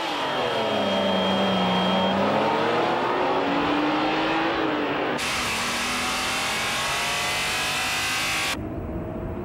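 A Honda NSX and a Ferrari Testarossa launch from a standstill on a test course, their engines rising steadily in pitch through the gears with loud, close, sustained roaring and no talking.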